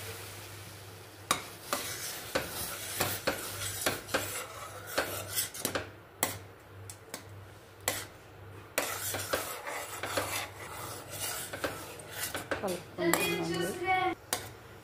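A spoon stirs boiling milk with cream and saffron in a metal pot for badam milkshake, giving repeated scraping clinks against the pot over a soft bubbling simmer, close and fairly quiet.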